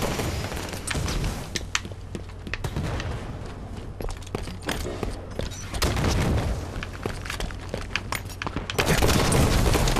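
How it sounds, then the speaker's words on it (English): Enemy gunfire in Halo 5: Guardians makes a loud, busy mix of shots, booms and thuds in rapid bursts that swell toward the end, with no talk over it. "Watch the enemy fire."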